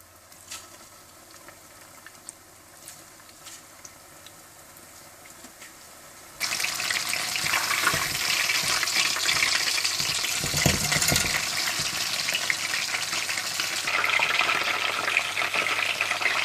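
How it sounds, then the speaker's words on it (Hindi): Chicken pakora goes into hot oil at medium heat and starts deep frying, a loud, dense, steady sizzle that begins abruptly after a quiet stretch and continues to the end, no voices. "मीडियम आंच पर तेल गरम कर लें और इस चिकन पकौड़ा को तल लें"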